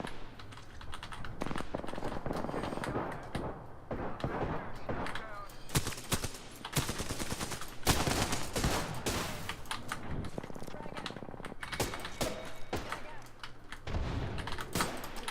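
Apex Legends gunfire crackles in repeated rapid bursts, loud and close, mixed with clattering keyboard typing and occasional talk.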